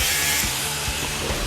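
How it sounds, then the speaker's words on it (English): A cutoff wheel trims metal side pieces for a Jeep CJ8 Scrambler body, giving a dense, continuous grinding hiss that holds steady and close throughout with no pauses. "little bit of trimming with a cutoff wheel"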